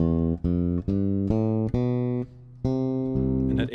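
A major scale from C up to the octave C, played as a run of about eight sustained, clearly pitched notes in steady succession, each struck cleanly and ringing alone with brief gaps between them.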